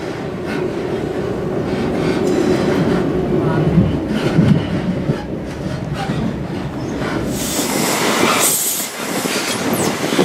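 Loud rumble and rhythmic wheel clatter of a CrossCountry passenger train running through Moorthorpe, heard from aboard, with brief squealing and a shift in tone near the end.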